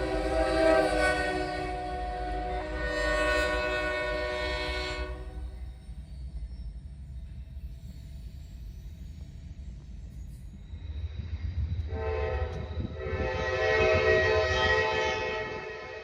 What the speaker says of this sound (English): an eastbound intermodal came on track 2